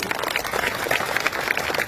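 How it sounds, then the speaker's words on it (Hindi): A large seated crowd applauds at an outdoor Constitution Day rally on a town ground in Udaipur, a brief stretch of steady, dense clapping with no talk over it. "आप लोग अपने आप के लिए ताली मारिए"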